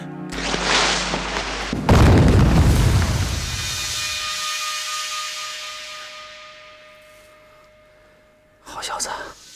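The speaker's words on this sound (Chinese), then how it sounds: "下去之后，把地道给我炸了。" A tunnel blown up in a wartime action scene, heard as a single heavy blast that follows a rushing build. A long rumbling tail fades away over several seconds, and a short burst of noise comes near the end.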